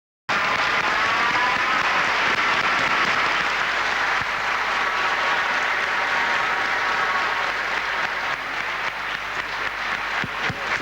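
Sustained audience applause fills a round-table pastoral social gathering, steady dense clapping from a large crowd throughout, with no talk over it.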